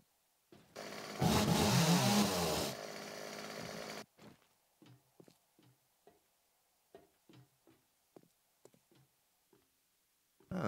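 Chainsaw in the video game 7 Days to Die revs in a loud burst for a few seconds, then cuts out, followed by a string of quiet, scattered clicks and taps.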